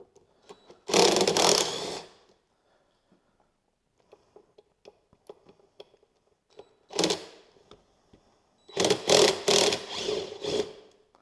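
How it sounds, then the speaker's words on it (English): A ratchet backing out T30 Torx bolts on a Polaris Sportsman 850 Touring ATV, three bursts of rapid clicking separated by near silence, the last burst longest, close and clear with no talking. "remove the 4 T30 Torx bolts"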